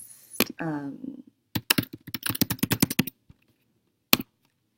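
Keys on a computer keyboard are typed into a React web app, a quick run of sharp clicks following a few spoken words, then one stray keystroke after a pause.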